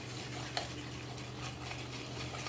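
A spoon stirs raw jackfruit masala in a pan, making a faint soft scrape and one small clink over a low steady kitchen hum, quiet and close.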